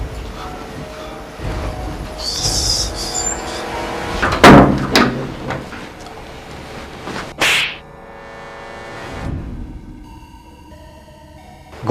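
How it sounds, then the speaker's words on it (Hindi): A door is shut indoors, with a loud slam standing out amid rustling and knocking movement sounds, followed by a short sharp hit and a quieter stretch of room tone. "एक बार दरवाजा तो बंद कर लें"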